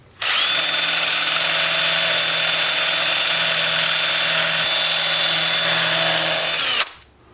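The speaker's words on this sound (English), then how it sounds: "And then I'll also sand, like I said, this inclusion and another one over here." A wood lathe runs with a steady, loud whine as 180-grit sandpaper works a wood inclusion on a turned piece. The sound holds evenly for about six seconds, then cuts off, with no talking.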